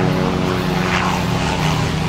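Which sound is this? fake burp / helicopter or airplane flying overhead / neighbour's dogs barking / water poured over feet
helicopter or airplane flying overhead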